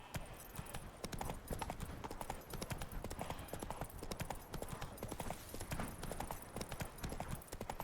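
Horse hooves in The Witcher 3: Wild Hunt Blood and Wine, a steady rhythmic clip-clop of trotting, close and continuous for several seconds over faint ambient game sound, with no talking.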